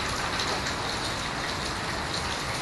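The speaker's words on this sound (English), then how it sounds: "let's enjoy the rainy day." Steady rain on a rainy day pours down in an unbroken, even hiss, close and full, with no voices over it.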